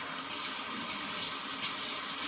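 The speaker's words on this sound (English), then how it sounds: "So now I'm just washing out the pan" Tap water runs steadily into a sink as a pan is washed out, a continuous close hiss and splash with no talking.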